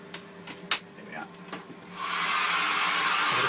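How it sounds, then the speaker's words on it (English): A low-voltage hairdryer switches on after a few light knocks and handling sounds during buffing paddle maintenance, then runs as a steady, loud blowing whoosh to the end. "I need to turn on my hairdryer."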